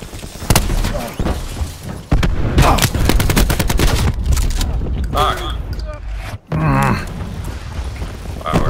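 Rapid gunfire in Call of Duty Black Ops 4 multiplayer deathmatch: a dense stream of sharp, loud shots and bursts, including shotgun blasts, with a brief gap before more firing and a player talking over it.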